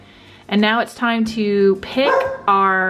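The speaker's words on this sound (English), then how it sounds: "I'm sorry about my dog." A pet dog barks several times indoors, loud, close yips and woofs with whimpering tones, overlapping a person talking.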